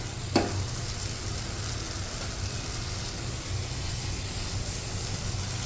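Homemade curd goes into a sizzling paneer masala and is stirred, making a constant frying hiss with a low rumble underneath and a single sharp click at the start.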